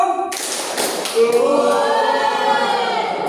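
Group of people clapping in unison for a spirited cheer in a classroom, dense broadband claps filling the clip with a loud burst midway, voices mixed in.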